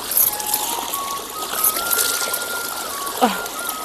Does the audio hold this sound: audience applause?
no